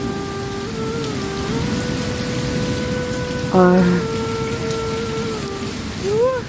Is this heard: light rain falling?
yes